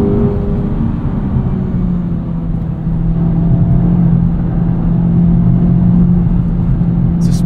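Engine of a 2024 Acura Integra Type S on an early morning drive, a steady loud drone with a continuous low hum and slight rev blips during automatic rev matching, alone with no talk.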